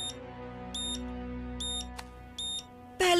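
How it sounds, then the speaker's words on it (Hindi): Cartoon fire alarm at a city hall sounding in four short, evenly spaced high electronic beeps over a low hum, then a sharper burst of noise at the end. "ये तो सिटी हॉल का फायर अलार्म है।"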